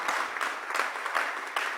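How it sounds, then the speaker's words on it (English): An audience claps together, a moderate patter of many hands with slight swells, steady for the whole stretch and no voices over it. "Let's give him a good round of applause."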